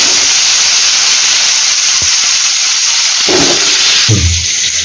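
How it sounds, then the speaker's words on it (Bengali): Cut potatoes fry in hot oil seasoned with turmeric and salt, making a loud, continuous close-up sizzle and hiss with a few soft clinks from the pan. "এবার এই তেলের মধ্যে আমি কেটে রাখা আলুগুলোকে দিয়ে ভালো করে ভেজে নেব।"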